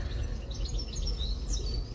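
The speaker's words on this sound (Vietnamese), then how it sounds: "mọi người có thể nghe được âm thanh ríu rít của chim chóc ở đây" Several birds chirping and twittering in quick, high bursts over a low, steady background rumble.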